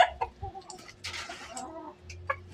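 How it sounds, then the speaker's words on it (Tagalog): Chicken clucks and short fowl calls come in bursts, fairly close, with some background rustling. "Ito, ating alagang manok."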